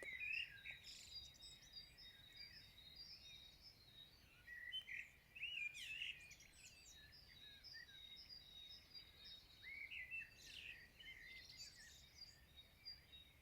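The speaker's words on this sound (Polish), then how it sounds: "ptaki dają koncert" Birds singing at dawn, around half past three in the morning, a steady chorus of chirps and trills from several birds at moderate distance, with no voices.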